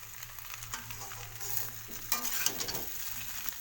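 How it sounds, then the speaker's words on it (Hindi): Taro (arbi) frying in a pan with a soft, steady sizzle and occasional scraping stirs, close and moderately quiet, with no talking. "अरबी को करने वाली हूँ मैं फ्राई।"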